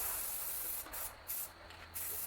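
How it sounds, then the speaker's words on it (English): Steady hissing of an aerosol can of black spray paint on a 1951 Ford truck seat, with several brief pauses between bursts, close and continuous. "Just a little black spray paint."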